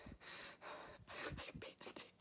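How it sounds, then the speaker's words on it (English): Quick, breathy panting in short rhythmic bursts of in and out breaths, close and fairly faint, with no words spoken. "I'm panting."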